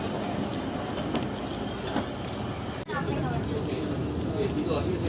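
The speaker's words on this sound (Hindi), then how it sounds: "तो तकरीबन 20 मिनट रुकने के बाद ट्रेन डिपार्ट कर रही है" A passenger train leaving Tando Jam railway station on the Karachi route, with a steady rumble of cars and a few faint clanks, close by and continuous, and people talking nearby throughout.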